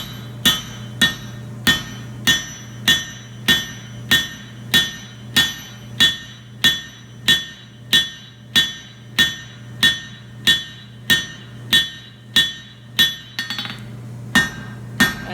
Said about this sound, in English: I'm going to bracket that down to a 45-degree angle and just kind of beat the edge of the anvil into it